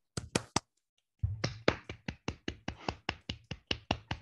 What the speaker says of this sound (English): please unmute yourself and clap for Simon.